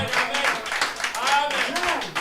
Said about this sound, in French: Applaudissez pour Frère Branham